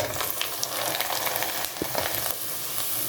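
Bengali jhikmik pitha, a traditional rice-flour sweet made for Eid, fries in very hot oil, producing a loud, continuous crackling sizzle close up with no talking.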